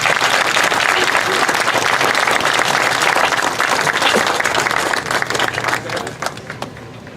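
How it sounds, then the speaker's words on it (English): Dense crowd applause at a community beautification project ceremony, sustained and loud before tapering off near the end, with some voices mixed in. "give them a round of applause"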